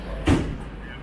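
A slam door on a Class 43 HST train thumps shut once, a short loud bang over busy platform ambience.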